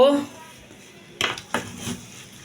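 Biryani turned over in a cooking pot on a low flame, a few clattering metal scrapes and knocks of a spoon against the pot after a brief voice at the start.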